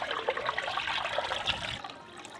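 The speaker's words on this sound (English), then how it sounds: "I'm gonna add water," Water pours steadily from a tap into a pot of chicken being readied for boiling, a close, continuous splashing rush that tapers off at the end.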